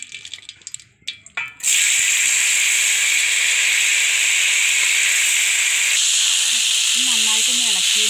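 Ada hits hot ghee in an uruli over a wood-fired stove and a loud, steady sizzling hiss starts after a few clattering knocks, then carries on close up with faint stirring sounds near the end.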